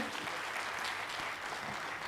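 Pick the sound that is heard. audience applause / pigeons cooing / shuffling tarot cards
audience applause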